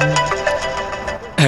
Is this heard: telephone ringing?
yes